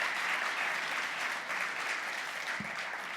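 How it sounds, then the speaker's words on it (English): Audience applause welcoming students at a manufacturing event, a steady, dense wash of clapping from a sizable crowd that holds evenly throughout. "So please join me in a round of applause to welcome the students and thank their sponsors as well."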